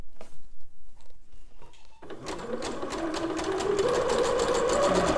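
A sewing machine running a zigzag stitch along a pyjama hem, a few slow hand-turned clicks first, then a continuous close, loud motor whirr with rapid needle rhythm to the end.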